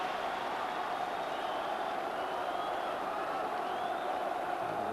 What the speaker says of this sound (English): that gets the crowd going again